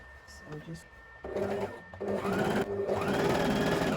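A sewing machine hems a half-circle maxi skirt with a narrow folded seam, running in a steady whirring rattle that starts after a short pause and continues close by.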